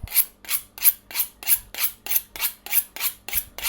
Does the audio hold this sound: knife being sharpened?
yes